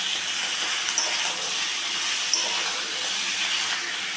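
Chicken meat frying in a pan with sautéed onions and whole spices makes a steady, even sizzling hiss throughout, close and moderately loud, with a couple of faint ticks.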